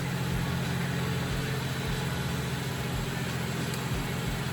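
A BMW F30 with an N55 engine and aftermarket CTS intake idles with a deep, throaty rumble, steady and close, with a low pulsing character and no talking.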